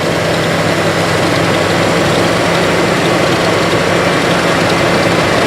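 A Mitsubishi Montero truck engine idles loudly and close, a constant dense rumble with an even low hum and steady vibration, no talking.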